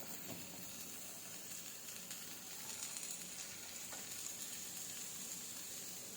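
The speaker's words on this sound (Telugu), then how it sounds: "ఇప్పుడు మనం కూరగాయ ముక్కలు దీంట్లో వేసేసుకుందాం. అన్నీ ఒకేసారి వేసేస్తున్నానండి, అన్నీ ఈవెన్గా ఫ్రై అవుతాయి." Chopped beans, potato and carrot pieces fry together with onions in a pan, making a soft, even, continuous sizzle at low volume with no talking.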